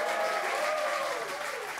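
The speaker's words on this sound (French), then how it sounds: "ça s'applaudit déjà." An audience claps steadily through a Swiss Comedy Talent TV stand-up show, a soft, even wash of applause with a faint murmur of voices and no break.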